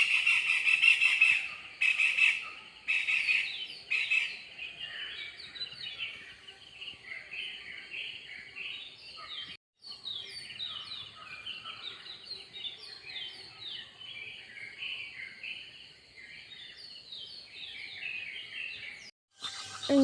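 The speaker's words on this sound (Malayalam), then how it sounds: "അങ്ങനെ കുറച്ച് നേരം കിളികളെ കളകളാരമൊക്കെ കേട്ട് ശുദ്ധവായുവൊക്കെ ശ്വസിച്ചിട്ട്" Small birds chirp and call at dawn, just after six in the morning, with a steady chorus of tweets and short squeaky notes that carry on through the whole stretch, moderately loud, with no talk.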